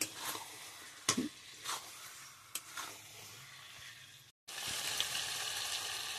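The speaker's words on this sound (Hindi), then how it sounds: "डाल के इसको कम से कम 15 मिनट भूनना है दोस्तों।" Pota kaleji, a goat offal gravy, fries quietly in a pan. A soft, even sizzle is broken by a few scraping stirs and a brief gap near the end.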